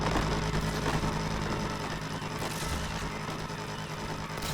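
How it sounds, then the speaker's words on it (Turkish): A DeLorean car engine in the video game Need For Speed Unbound, modified to sound spacey, hums steadily with a synthetic, warbling edge, loud and unbroken throughout, with no voices. "böyle uzaylımsı bir ses yapmak istedim aracın motor sesine"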